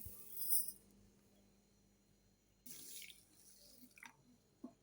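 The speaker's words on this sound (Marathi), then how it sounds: "सर्वात अगोदर तांदूळ छान असे स्वच्छ धुवून घ्यायचे." Rice grains being rinsed in water for sweet saffron rice, with faint running water, soft splashes and a few small clinks and drips, fairly quiet overall.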